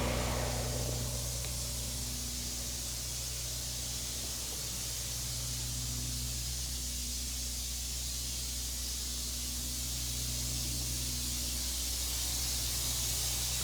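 Open cell spray foam insulation sprayed from a rig inside a barndominium, a continuous loud broadband hiss with a steady low machine hum underneath throughout.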